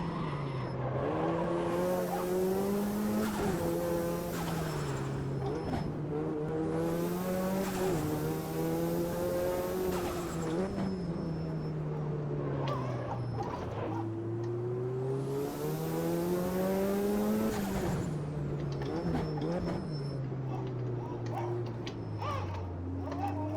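Race car in the sim racing game Automobilista 2 with no ABS, engine note rising and falling through repeated braking zones while the tires lock and squeal in several long screeching bursts over a continuous drone.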